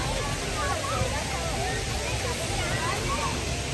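Water flowing down over stones in a fountain at Expo City Dubai's winter wonderland, a steady broadband rush and splash that holds level throughout, with faint crowd murmur beneath it.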